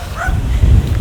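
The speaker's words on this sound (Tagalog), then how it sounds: "Ito yung aso." Dog near a historic Spanish-era stone bridge giving a short burst of barking, loud and close, over a low rumbling outdoor background.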